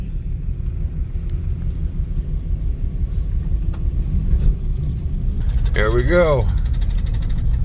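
A 1964 Dodge sedan, running for its first drive in over fifteen years, gives a low, steady engine rumble as it pulls away, with a person speaking briefly over the drone near the end.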